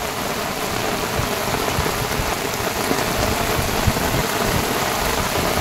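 Heavy rain pours steadily at night in the Sundarbans during a fishing trip, a dense, continuous hiss of drops drumming on surfaces, close and loud with no break.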